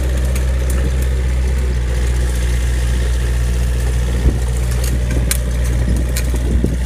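A 2006 Takeuchi TB53FR compact excavator's diesel engine runs steadily as the machine is driven, a low, constant rumble with a few faint clanks near the end.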